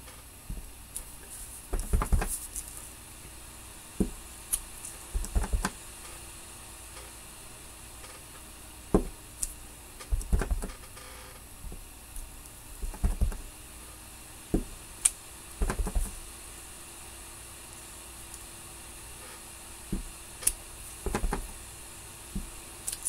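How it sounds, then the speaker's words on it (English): Rubber stamps pressed by hand onto background paper, giving soft, irregular taps and knocks in scattered bursts, quiet and close, with no talking. "we're going to stamp our own background paper"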